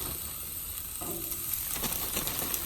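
Fish fajita vegetables sizzling on a hot Blackstone griddle, a steady hissing crackle with scraping stirs and small pops.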